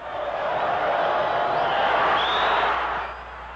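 Botafogo supporters in a football stadium roar and cheer as the referee ends a 1-1 match, a dense, steady wall of crowd noise that swells and holds for several seconds before easing.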